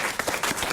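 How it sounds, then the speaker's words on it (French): Brief round of audience applause for a prize winner named Audrey in a French radio studio, quick uneven claps at moderate volume. "On vous applaudit, Audrey."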